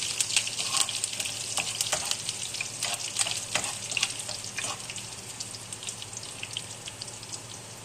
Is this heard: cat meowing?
no